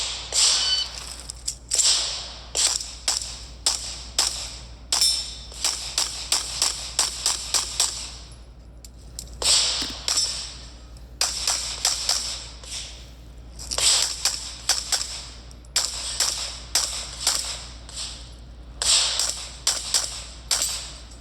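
Gunshots fired on an outdoor shooting stage, a long series of sharp, loud cracks coming in rapid bursts separated by short pauses, with a faint low hum beneath.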